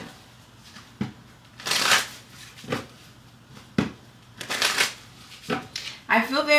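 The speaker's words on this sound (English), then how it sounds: "so let's go ahead and shuffle." Tarot cards being shuffled by hand, several quick riffling bursts separated by short pauses, close and fairly quiet, with a brief voice at the very end.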